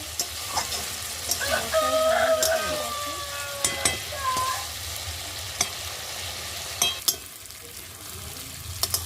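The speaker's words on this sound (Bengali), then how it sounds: "এবারে বন্ধুরা এটা আমরা ভালো করে ভালো ভাজা করে নিচ্ছি" Beef tripe fries with spices in a pan, soft sizzling under repeated scraping stirs and clanks of a utensil, while a rooster crows faintly in the background.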